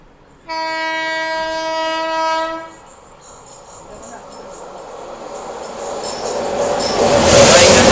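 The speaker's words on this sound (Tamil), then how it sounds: "ஒரு ட்ரெயின் வந்து நம்ம கிராஸ் பண்ணி போகுது" A Kacheguda to Madurai weekly superfast express train sounds its horn loudly for a couple of seconds, then rumbling rail noise builds steadily as the train passes close by.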